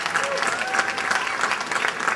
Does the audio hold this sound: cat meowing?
no